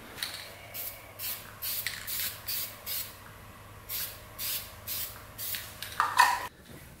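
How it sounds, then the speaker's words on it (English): Short hissing bursts of spray paint on rusty rims from a Yamaha Breeze scooter, about a dozen quick puffs in an uneven rhythm, close and fairly quiet over a low steady hum. "I just want to quick spray those with some paint."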